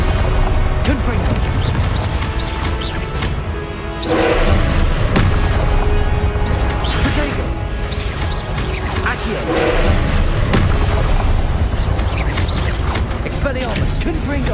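Confringo spell blasts in Hogwarts Legacy, repeated booming explosions with whooshes and crashing impacts over dense continuous combat noise, with spell-casting voices shouting throughout.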